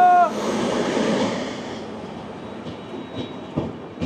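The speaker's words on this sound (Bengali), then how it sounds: "মানে এখন আমাদের ট্রেন ননস্টপ আরও 100 কিলোমিটার চলবে বর্ধমান পৌঁছাতে" New Delhi–Howrah Rajdhani Express running nonstop toward Bardhaman, a loud rushing rumble at first that settles into a softer steady roll with faint clicks of the wheels.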